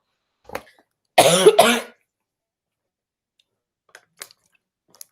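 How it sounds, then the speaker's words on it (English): A couple of sharp coughs up close from a person with a cold, a short one then a harsher double cough, followed by quiet with a few small clicks. "So I'm coughing, guys. I had a cold."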